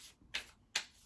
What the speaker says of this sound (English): Let's shuffle them a couple of times